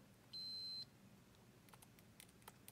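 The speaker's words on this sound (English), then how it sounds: "It does have a continuity buzzer." A single short, clear electronic beep from a multimeter's latching continuity buzzer, lasting about half a second against a quiet background, followed by faint clicks.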